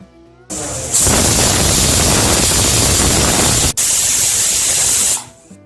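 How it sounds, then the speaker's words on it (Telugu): A pressure cooker whistle lets out one long, loud, steamy hiss nearby while country chicken cooks, broken only by a split-second dip before it tapers off. "ఒక ఎనిమిది విజిల్స్ వచ్చే వరకు మాంసాన్ని ఉడికించుకోవాలి"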